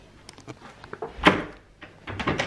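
A house door gives a few soft, scattered knocks and one sharper thud, quiet and close in an otherwise hushed room.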